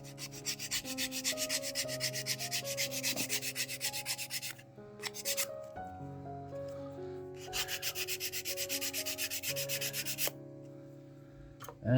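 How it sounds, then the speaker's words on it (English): Rapid rhythmic scraping of a file sanding a tabletop miniature car model back and forth, in two long bursts separated by a short pause, close and steady under soft music. "do the quick little sanding"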